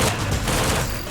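Gunfire from German gun positions around a dock during a WWII commando raid crackles in a dense, continuous volley of loud overlapping shots with booming low rumble and no pauses.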